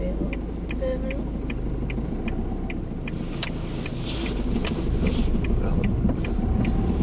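A car drives along during a driving lesson, its low engine rumble steady in the cabin while a regular ticking, like an indicator, repeats throughout and the road noise swells slightly toward the end.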